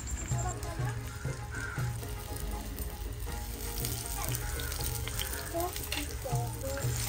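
Eggplant slices frying in hot oil for a festival thali, a steady close sizzle with soft stirring and clinks, while someone talks over it.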